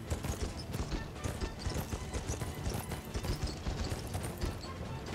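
Rapid hoofbeats of a galloping horse in the video game Red Dead Revolver clatter continuously in a quick, uneven rhythm, fairly close and moderately loud.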